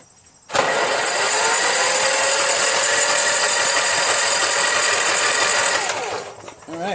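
Powermore 420cc engine on a Craftsman lawn tractor, with a scored piston and cylinder wall, cranked over in one loud, steady whirring drone that runs about five seconds before cutting off.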